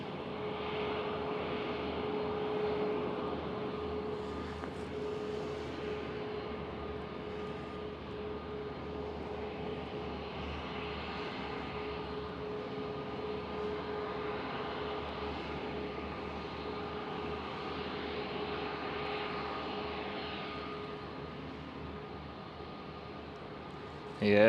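A Boeing 777 lands on runway 27 at Amsterdam Schiphol and deploys its thrust reversers, giving a distant, steady broadband engine roar that holds evenly throughout, with a faint tonal hum underneath.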